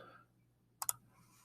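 Two quick, crisp key taps on a calculator while numbers are entered, close and distinct against an otherwise quiet room with a low hum.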